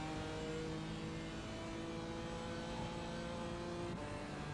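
A GT4 race car engine on a hot lap holds a steady tonal drone, fairly quiet and even, before its pitch drops abruptly near the end.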